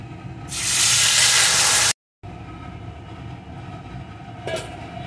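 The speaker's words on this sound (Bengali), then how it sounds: "এখন এর ভিতরে আমি তরকারিটাকে ঢেলে দেব।" Curry poured into hot fried tempering spices, including cumin, for a thin rohu fish curry: a loud, steady sizzling hiss that swells, cuts out abruptly, then settles into a quieter ongoing crackle.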